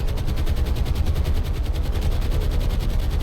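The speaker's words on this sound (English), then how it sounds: "Hopefully this will draw the anti-aircraft fire away." Anti-aircraft guns in the naval combat game War on the Sea fire a loud, continuous rapid barrage of bursts that blend into a dense rumbling roar, with no talk.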